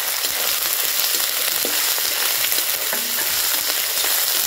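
Ginger-garlic paste frying and being stirred in a pan for a prawn and taro-stem dish, a steady close hiss of sizzling oil with occasional scraping strokes throughout, no voices.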